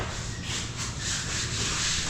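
Steady hand sanding, a dry rasping rub with gentle back-and-forth swells, close and fairly quiet.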